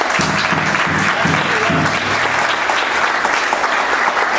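A crowd at a veterans art festival bursts into loud, continuous applause, many hands clapping in a dense wash that holds steady throughout, with a low murmur of voices beneath it early on.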